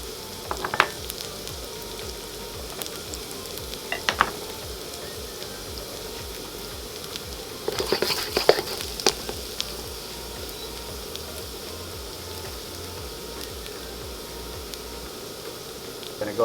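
Garlic sizzles steadily in peanut oil in a wok as a constant close hiss, with a few louder crackles and scrapes partway through.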